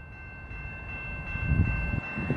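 A CN eastbound manifest freight train led by locomotives 3225 and 3931 rolls past at Battle Creek, Michigan, a steady low rumble of wheels and cars that swells slightly louder toward the end, with a faint high tonal hum above.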